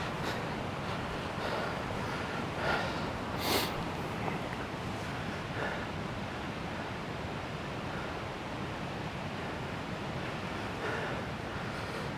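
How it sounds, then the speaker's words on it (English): Loud rushing creek water near Goose Creek Falls, a steady broadband roar of fast-moving current that fills the whole stretch without pause, close to the listener. "And here's the creek. It's gonna be loud"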